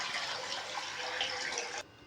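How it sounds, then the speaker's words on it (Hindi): Water poured steadily from a glass into a cooking pot on a low flame for about two seconds, a continuous splashing stream that stops abruptly, with no talking. "इसमें मैं तकरीबन 3 गिलास पानी डालूंगा।"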